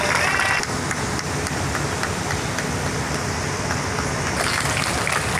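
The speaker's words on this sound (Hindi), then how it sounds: "एक बार जोरदार तालियां हो जाएं" A crowd of people claps at an outdoor dengue-awareness campaign event, a steady, moderately loud patter of many hands that holds evenly throughout without pause.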